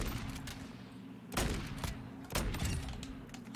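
Gunfire in Call of Duty Modern Warfare 2 while sniping: two sharp, loud shots about a second apart rise over a steady rumbling battle bed, with a muffled voice faintly underneath.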